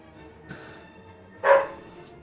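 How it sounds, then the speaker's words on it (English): Indoor dogs give two sharp barks, a lighter one and then a louder one about a second later, nearby against a quiet room. "Excuse me for the dogs."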